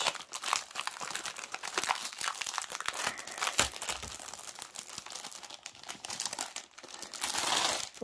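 A Merejka cross-stitch kit with a Thomas Kinkade design is pulled out of its plastic packaging, giving continuous close crinkling and rustling of plastic with a few sharper crackles.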